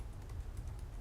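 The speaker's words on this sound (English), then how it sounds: "I know you were just typing quick" Fast typing on a computer keyboard during a school district policy committee meeting: faint, quick, light key clicks over a low room hum, with no speech.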